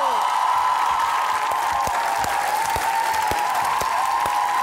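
Loud, sustained applause from a large studio audience at a TV comedy show fills the whole stretch, dense clapping with a steady roar beneath it.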